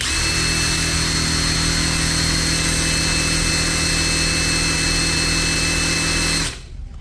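An H&L Premier CIW190 cordless impact wrench runs free at full speed, making a loud, steady high-pitched motor whine close by. It holds for about six seconds, then cuts off abruptly.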